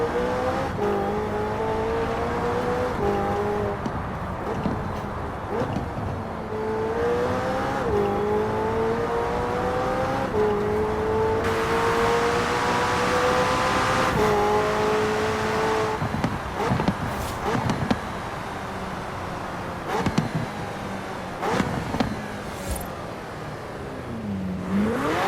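A McLaren 600LT engine in Forza Horizon 4, loud and close, droning steadily through repeated rising revs and gear shifts for about twenty-five seconds with no talk over it.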